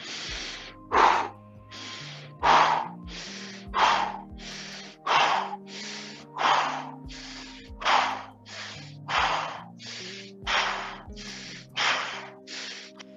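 Fast abdominal breathing during a qigong session, a steady train of about fourteen sharp, forceful breaths close to the mic, each a quick burst of air repeating roughly once a second with a faint tonal hum underneath.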